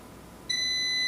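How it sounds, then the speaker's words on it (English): An Instant Vortex Plus air fryer gives a single clear electronic beep after a button is held down during a factory reset, loud and sustained to the end against a quiet background. "it'll beep and go back to the default setting, or the factory setting"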